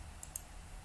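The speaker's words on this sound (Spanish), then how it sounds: "Le voy a dar clic derecho" Two quick, crisp computer mouse clicks close to the microphone in a quiet room, a fraction of a second apart.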